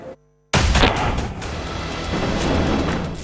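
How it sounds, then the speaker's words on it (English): News footage from the war in Ukraine: after a brief snippet of tone and a cut to silence, a heavy boom hits. Sustained rumbling, crackling gunfire and blast noise follow, loud and dense to the end. "incessant rain of missiles and rockets."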